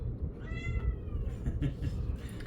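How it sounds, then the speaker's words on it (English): A cat screams and meows in a room with a steady low background rumble, its harmonic cries rising and falling across a couple of seconds at moderate distance. "You're gonna hear the cat screaming the whole time."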